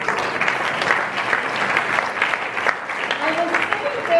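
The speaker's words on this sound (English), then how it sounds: "Can we have a round of applause for you folks?" Audience applause at a candidates debate in Fredericton South, a continuous patter of many hands under a voice that talks through it, with a few whistles or cheers rising near the end.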